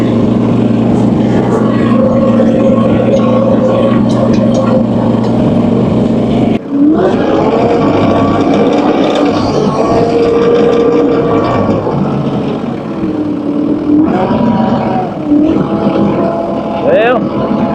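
A LANDTOP skid steer engine runs loud and close, a rough steady drone that briefly cuts out, then picks back up with revving surges, while people talk over it.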